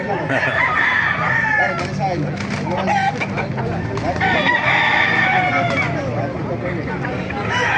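Roosters crow repeatedly amid clucking chickens at a chicken market in Baliuag, Bulacan, loud and close, with a murmur of people talking in the background.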